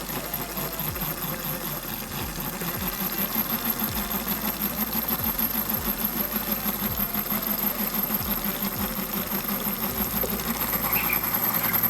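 A small hydro generator with a turbine built from spoons spins under water from a garden hose, giving a steady, busy whirring rattle with a rhythmic ticking pulse, close and unbroken throughout, with no voices.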